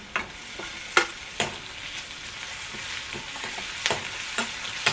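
A spoon or spatula stirs a paste for mushroom soup as it fries in a pan. Close, sharp scrapes and clicks land at irregular intervals over a constant soft sizzle.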